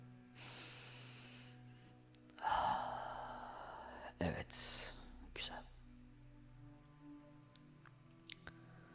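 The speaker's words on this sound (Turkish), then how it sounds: "Derin bir nefes alalım" A slow, deep breath drawn in and let out during a calm Turkish personal-development podcast, a soft breathy rush that swells and fades with a few quieter breath and mouth sounds after it. No words are spoken.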